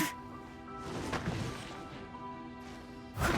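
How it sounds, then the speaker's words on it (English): Boulders smashed to pieces in Genshin Impact, heard as a crashing impact with rumbling debris, followed by a second sharp smash near the end, set against faint game music. "She smashed the boulders to pieces."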